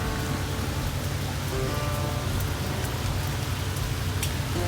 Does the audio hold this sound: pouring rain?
yes